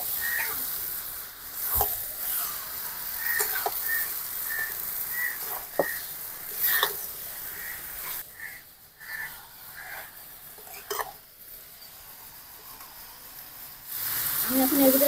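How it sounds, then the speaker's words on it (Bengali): Desi chicken meat sizzles as it is fried with well-cooked spices in a pan, a steady crackle with faint whistling tones and occasional utensil knocks, growing louder in the final seconds. "এখন দিয়ে দেবো মাংস। এখন মাংসটা খুব ভালো করে কষিয়ে নেবো।"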